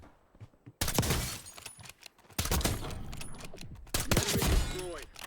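Akimbo Black Ops 6 pistols firing in Warzone, delivered as three bursts of rapid, sharp shots, each starting abruptly, with mechanical clicks and scattered impacts between them.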